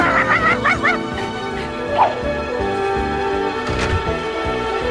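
A cartoonish dog from a Garfield video game barks and yips in short bursts, with whimpering squeaks early on and game music playing underneath, fairly loud and close.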